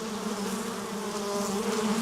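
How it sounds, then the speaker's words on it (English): Bees buzz steadily around flowers in a continuous, even drone that stays close and unbroken with no voices. "The bees will go everywhere."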